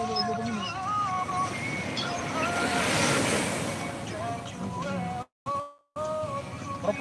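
Waves washing onto a beach, a continuous surf roar swelling and easing with wind noise, partly under chatter and game sounds, with a brief dropout near the end.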